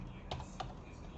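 Two short bursts of typing on a computer keyboard, a quick cluster of key clicks followed by another, close and fairly faint over a low steady background hiss.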